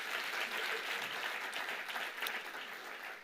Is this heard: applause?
yes